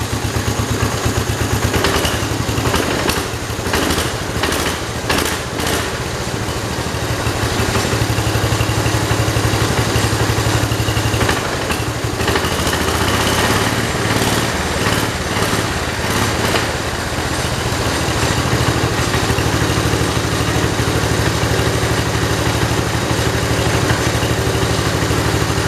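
A 1968 Kohler 112 garden tractor engine idles steadily and loudly up close, a continuous buzzing drone with a rapid firing pulse that holds throughout with no voices.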